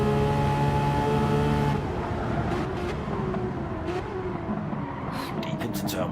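Porsche 911 GT3 RS race car at the Nurburgring GP circuit, a loud near engine howl that shifts pitch and revs through corners, with a commentator talking over it.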